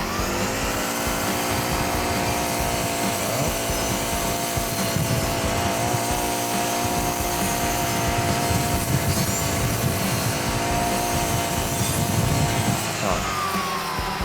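Brush cutter fitted with a circular saw blade cutting grass, a steady loud high-revving engine drone with scraping and rustling as the blade moves through the grass, continuous and close.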